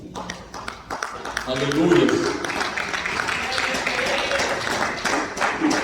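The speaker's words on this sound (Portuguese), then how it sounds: "Se assente as palmas bem forte para Jesus." Church congregation clapping hands strongly during a worship service, a dense steady patter of applause running throughout with a voice calling out over it.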